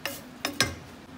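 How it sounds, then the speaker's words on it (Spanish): Chopped onion drops into a pot of browning noodles for a Mexican sopa de fideos: three short, close clinks and clatters from the pot and utensil, then a faint sizzle, with no talk. "Le voy a poner de una vez la cebolla"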